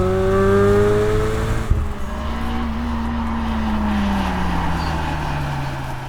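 Honda Civic Mugen RR with aggressive cams driving under load, its engine note loud and continuous with steady harmonics, a brief shift around the middle, then pulling on with a coarse drone.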